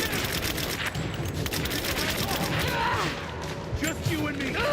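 Rapid bursts of automatic gunfire in a video game, dense repeated shots and crackling impacts filling the whole stretch at close, loud range.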